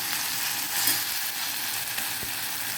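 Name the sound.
onion and garlic sautéing in a pressure cooker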